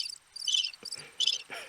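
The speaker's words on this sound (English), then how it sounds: "Oh, those crickets. They're everywhere." Crickets chirp in steady pulsed bursts, several insects trilling close and fairly loud with short gaps between their bursts.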